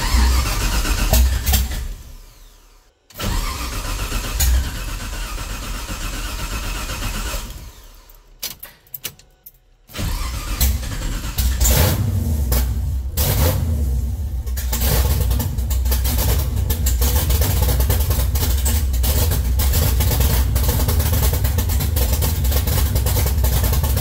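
A 1969 Camaro with a swapped LS3 V8 and open headers cranks and fires after a couple of quiet pauses, then settles into a loud, raw, lumpy idle that stays close and steady.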